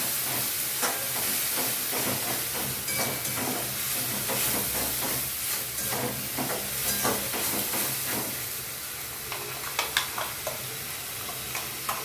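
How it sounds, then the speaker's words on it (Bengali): Garlic, ginger and two tomatoes are fried into a spice paste for prawn khichuri, a steady close sizzle and hiss with scraping stirs, easing slightly toward the end where a few sharp clicks and taps stand out. "এটা দিয়ে আমি ভালো করে মশলাটাকে কষবো।"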